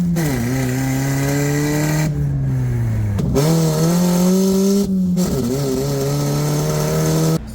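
A custom-built Mazda car driving close by, its engine droning steadily and rising in pitch through repeated accelerations, with brief gaps between gear shifts and no talking.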